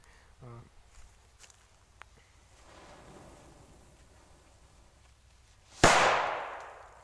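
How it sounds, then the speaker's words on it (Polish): A half-gram Colour Salute firecracker with a flare goes off outdoors with a single sharp bang near the end, followed by a decaying hiss, after faint rustling and quiet footsteps. "ta flara jest naprawdę ładna ale huk no to to jest półgramówka"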